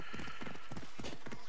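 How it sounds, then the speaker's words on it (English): A horse in the Assassin's Creed Odyssey video game gallops with quick, rhythmic hoof clip-clops close by, and a neigh rises over the hoofbeats, all against a steady game ambience with no talking. "I'll call my horse then."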